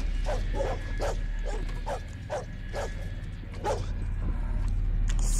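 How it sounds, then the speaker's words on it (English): A dog in Condemned 2 barks repeatedly, a series of sharp yips and bow-wows at fairly regular intervals, moderately near over a low ambient drone. "Oh, there's the dog."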